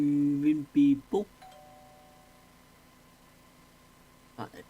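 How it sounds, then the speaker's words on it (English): Doorbell chime from a hospital management game rings in a few quick tonal dings, loud and close, then a quiet hum, with a short talking voice near the end. "Like the doorbell keeps going off"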